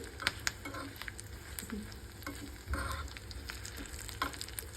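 Curry leaves and dried red chillies frying as a tempering in a small pan over low flame, giving a steady close sizzle with scattered crackles and pops. No one speaks.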